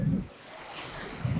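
Sea waves at Akumal beach on the Riviera Maya wash in a broad, steady roar with wind buffeting the microphone, surging slightly louder at the start and end.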